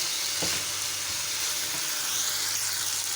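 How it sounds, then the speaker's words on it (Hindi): Lotus stems frying in a pan with a little stock about to be added, giving a steady broadband sizzle that stays close and even throughout, with a faint stir or scrape near the start. "2 मिनट हो गए इनको फ्राई करते हुए"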